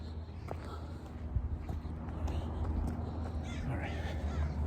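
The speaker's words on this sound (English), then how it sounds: "look at these birds" Crows caw a few times at a distance outdoors in Thousand Oaks, California, short harsh calls scattered over a low background rumble and faint footsteps.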